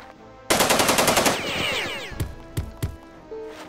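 Assault rifle fire in the video game Jagged Alliance 2: a fast burst of about a dozen loud rounds followed by ringing echoes and a few lone shots, with no talk.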